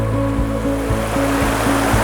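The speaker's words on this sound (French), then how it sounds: "Traversée de rivière." River water rushes steadily during a river crossing in Yellowstone, a continuous loud flow with a droning engine-like hum over it.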